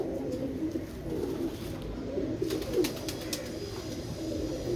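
Pigeon cooing while held in the hand, soft low coos under steady background noise, with a few faint flutters of wings, fairly quiet.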